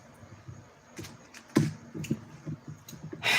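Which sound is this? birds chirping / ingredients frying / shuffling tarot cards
shuffling tarot cards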